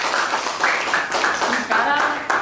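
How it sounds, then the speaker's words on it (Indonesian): A class of teacher trainees claps in a brief burst of uneven, overlapping hand claps during a group evaluation, with some voices mixed in. "Ya bagus, tepuk tangan."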